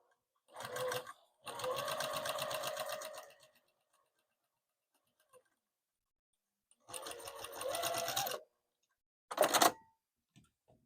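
Close domestic sewing machine stitching through layers of a quilted oven mitt at a stitch length of 3, several separate runs of rapid mechanical whirring separated by silent gaps, ending with a short final burst.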